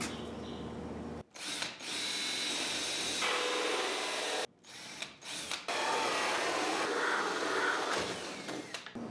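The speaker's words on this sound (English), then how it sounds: "Go halfway through, flip the wood, and then drill again" A power drill with a hole saw whines loudly in several long bursts, cutting through wood with brief pauses between runs, no talking.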